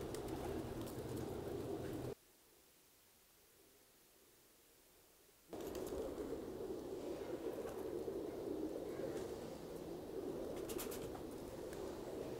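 Pigeons of an original breed coo softly at a pigeon keeper's loft, a faint low murmur that drops out briefly partway through, then returns.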